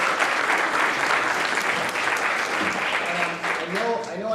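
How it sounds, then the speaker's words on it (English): An audience applauds a panel at a public forum on overdose prevention, a dense, steady clatter of many hands that lasts several seconds and begins to thin out toward the end, with voices faintly under it. "So if we could have a round of applause for the panel."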